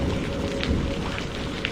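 Steady heavy rain pours down during a night storm, hammering over an umbrella outside a back porch with a dense, unbroken hiss close by and no voices.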